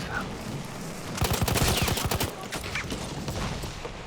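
Rapid machine gun fire bursts out in the video game Battlefield 1, a loud, fast rattle of shots lasting about a second amid ongoing battle noise, followed by scattered, quieter gunfire.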